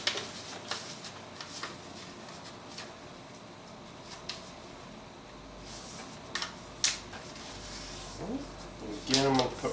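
Paper being folded and creased for an origami rose cube, soft crinkles and dry rustling with a few sharper crease snaps. They are close and fairly quiet, and a voice briefly comes in near the end.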